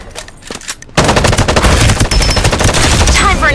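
Loud, rapid automatic gunfire erupts in the Farlight 84 video game after a quieter opening, then continues in dense bursts to the end.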